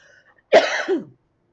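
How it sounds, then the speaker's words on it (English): A single short, rough throat clearing, close and fairly loud, surrounded by silence. "Excuse me, just have to clear my throat."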